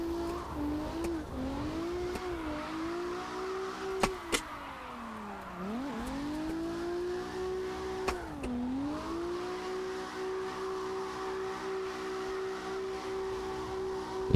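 A Mazda RX-7 engine in the drifting game CarX Drift revs high and steady, dropping in sharp dips and surging back several times over a long stretch, with brief clicks and faint tire squeal.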